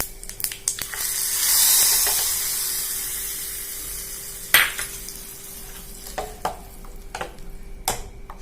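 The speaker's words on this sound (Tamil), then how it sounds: "கொஞ்சம் ஜீரகம், இப்போ இதில் சேர்த்துடலாம்." Cumin seeds dropped into a hot pan for a manathakkali keerai curd pachadi hiss in a brief burst that fades, followed by several sharp clinks and stirring knocks, close by with no talk.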